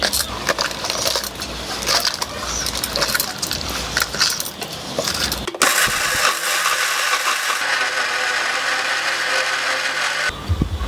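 A kitchen mixer grinder running on coconut pieces and chillies for a coconut karam podi, first a loud clattering grind of chunks, then a smoother steady whir, close and without talk.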